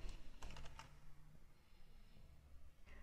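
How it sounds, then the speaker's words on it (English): Typing on a computer keyboard: a quick cluster of light key clicks at the start, a short pause, then a couple more taps, faint and close with no voices. "We'll type in Procurement Manager."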